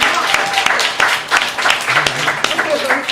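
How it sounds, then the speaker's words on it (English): An audience applauds Sister Vicki Dillard at a town hall, with dense, steady clapping throughout and some voices mixed in. "So can you please give Sister Vicki Dillard a round of applause?"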